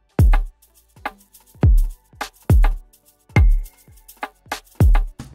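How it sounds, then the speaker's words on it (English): Afrobeat kick drum, simple pattern: deep, booming hits landing every second or so, each with a long low tail, alone in an otherwise sparse mix with faint melodic tones between hits. "so then next I added in the kick."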